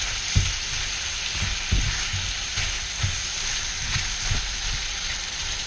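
Garlic and shrimp sizzle steadily in a hot stainless steel pan, a constant close hiss of frying broken by periodic low scrapes and knocks as a utensil stirs them around, with no voices.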